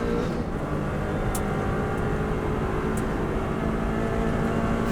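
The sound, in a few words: Subaru WRX STI engine at full throttle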